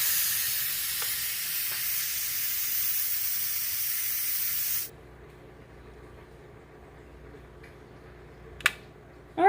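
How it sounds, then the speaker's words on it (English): Steam blasts from the pressure release valve of an Instant Pot cooking spaghetti, a loud steady hiss for about five seconds that cuts off abruptly, followed by quiet kitchen room tone and a couple of small clicks. "we're going to go ahead and turn our lever to venting so that we can let the steam out of the Instant"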